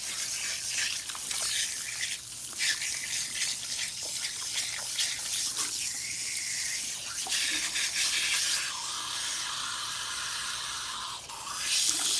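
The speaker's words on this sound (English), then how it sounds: "So we're gonna go ahead and rinse out her conditioner." Water from a salon sink sprayer rinses conditioner out of a client's hair, a steady hissing spray that shifts as the stream moves across the head, with occasional splashes and no talking.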